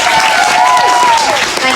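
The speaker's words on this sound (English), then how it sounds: "Can we get a round of applause for Harlow" An outdoor crowd at a horse show chat stage applauds briefly and fairly loudly, with a cheer or whistle-like tone and voices mixed into the clapping.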